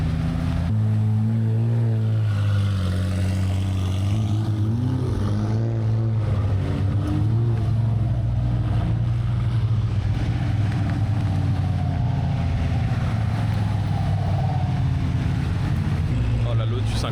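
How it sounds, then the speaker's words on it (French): Cars, including a Lotus, roll forward one after another near Toulon: a loud continuous engine drone with rising and falling revs as the vehicles move up close and pass, with voices talking over it. "Les voitures vont juste avancer, chacun son tour."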